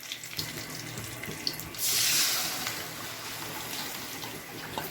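Water pours in a brief gush while making onion chutney, rising suddenly then tapering off against a quiet background hiss.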